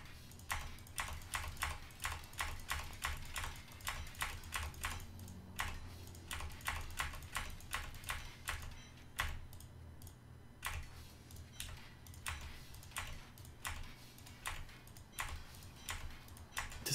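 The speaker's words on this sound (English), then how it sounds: "I'm gonna have to click this a bunch of times" A computer mouse clicks over and over in quick, fairly steady succession while items are salvaged in a game, with crisp close taps that briefly pause once midway.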